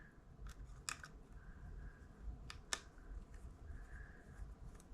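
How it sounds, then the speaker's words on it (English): Small plastic clicks and snaps as the blades are pulled off an S160 drone's four motors, a few sharp ticks spread over quiet room noise, faint and close. "We'll take the blades off of all 4 just because it'll make disassembly easier"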